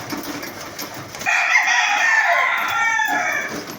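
A Sweater gamefowl rooster, a one-time winning fighting cock, gives a single full crow. The call is loud and close, a strained, drawn-out call lasting about two seconds, heard alone without talk.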